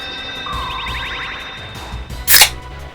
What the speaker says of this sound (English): That is the sound of hypnosis being engaged